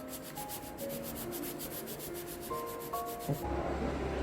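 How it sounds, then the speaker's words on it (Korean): Quick, rhythmic back-and-forth rasping of a file's soft side on the sides of a polygel nail extension, steady and close, ending abruptly with a short knock and a faint hum. "부드러운 면으로 사이드를 먼저 갈아줍니다"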